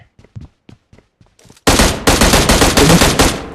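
Rapid bursts of video game gunfire erupt loud and dense after a few faint scattered clicks, sustained automatic fire continuing to the end.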